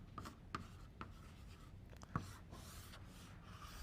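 A physics equation is written by hand on a board or paper during a lecture on the Stern-Gerlach experiment: soft, close scratching strokes in short irregular bursts with a sharper tap near the middle, no voices.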